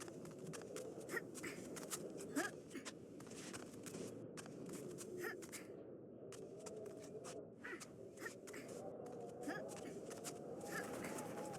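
Small birds chirp faintly in the background, with a few crow-like caws mixed in. The calls come as scattered short notes under a steady low room murmur.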